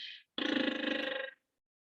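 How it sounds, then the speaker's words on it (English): A short buzzing lip trill held on one steady pitch, fluttering for about a second, close to the mic and fairly quiet. "a lip trill on one note sounds like this"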